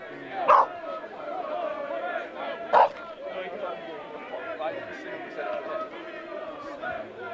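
A dog barks sharply twice near a football pitch during a non-league match, the short yelps standing out over steady crowd chatter and voices.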